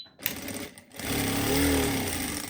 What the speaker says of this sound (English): So when we start sewing, the machine will automatically bar attack for us.